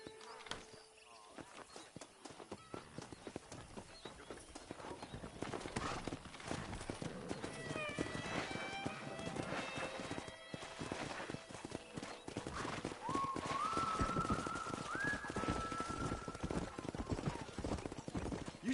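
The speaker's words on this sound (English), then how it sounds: "Let's see if we can't wrangle some horses." Horses clip-clop steadily in Red Dead Redemption, a dense run of hoofbeats that carries on throughout under voices and background game sound, with a few whinnies and calls rising midway.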